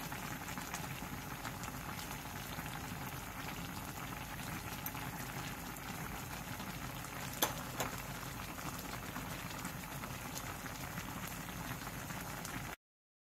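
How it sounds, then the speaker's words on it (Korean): Korean jeon jjigae, a stew of leftover pan-fried jeon, simmers in a pot with a continuous bubbling, rain-like patter and one or two brief clicks partway through, with no talking. "물이 끓어오르면 중약불로 줄여 10분 정도 더 끓여주세요."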